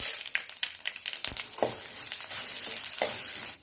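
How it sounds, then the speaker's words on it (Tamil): Mustard seeds, chana and urad dal, dried red chillies and curry leaves fry in hot oil for a ridge gourd stir fry, giving a steady close sizzle with sharp pops and crackles scattered throughout. "எண்ணெய் ஊற்றிக்கலாம். கடுகு, கடலைப்பருப்பு, உளுத்தப்பருப்பு, காஞ்ச மிளகா, கருவேப்பிலை போட்டுக்கலாம்."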